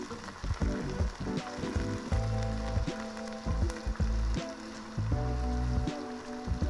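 Sliced onions frying in oil in a pan for chicken fry piece biryani, giving a steady close sizzle broken by repeated bursts of scraping and stirring, with no talking.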